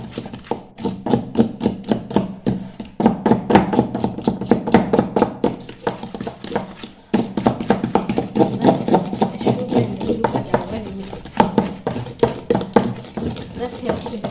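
Batter for a homemade cake is beaten with a wooden ugali cooking stick, giving a fast, steady run of close, knocking taps against the bowl that keep going with only brief pauses.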